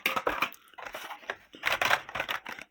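Plastic shopping bag holding boxed toy cars, Matchbox diecast models, set down indoors: a few close crinkling, rustling bursts of moderate loudness with brief pauses between them, no talking.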